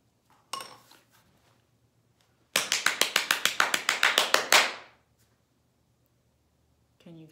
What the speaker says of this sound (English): Clap was my action,